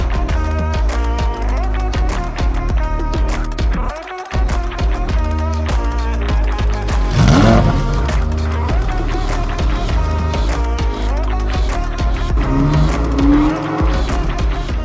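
A Lamborghini Huracan Performante on the move, its engine a loud, sustained drone with shifting harmonics and a brief gap as the revs drop, then a surge of acceleration, heard close from inside the car.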